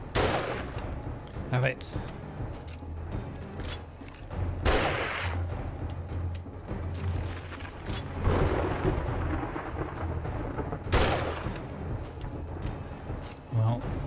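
Rifle shots in the survival game 7 Days to Die during a Blood Moon night, with several sharp, loud reports spaced irregularly through the stretch and someone talking between them.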